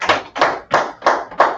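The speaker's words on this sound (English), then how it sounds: "clap it up" A church congregation at a Sabbath service claps in a steady rhythm, five hearty claps evenly spaced and close, with no talk over them.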